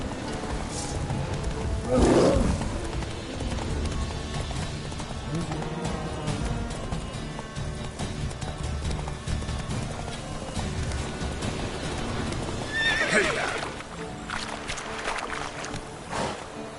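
A horse in The Witcher 3 gallops with steady hoofbeats under game music and ambience, with a couple of louder bursts near the start and end and a voice speaking now and then.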